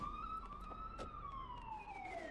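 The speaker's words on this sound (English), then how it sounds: "Alright, cop car." Police car siren in Grand Theft Auto 2, a sustained wailing tone slowly rising then falling, steady and clear over a low engine hum.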